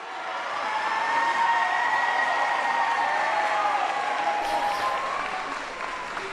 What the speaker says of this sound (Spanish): lo reciben con un aplauso.